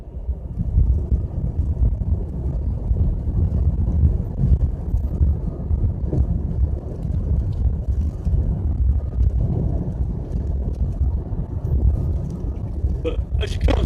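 A car driving at night within the speed limit on a familiar road in bad weather, giving a steady low rumble of engine and road noise with wind buffeting throughout.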